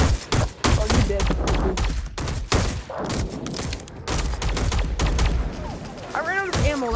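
Rapid bursts of gunfire from a VR shooting game, Skyfront VR, fill a busy arena. The shots run densely throughout, loud and continuous, with players talking and shouting over them.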